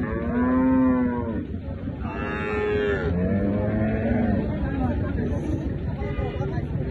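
Cattle at a busy market moo loudly several times, big butcher cows with long drawn-out calls close by, over a steady background of crowd babble and talk.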